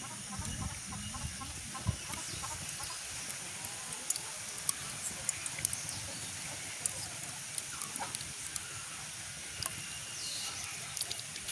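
Chickens cluck and chatter in scattered bursts, some near and some farther off, over a soft outdoor background.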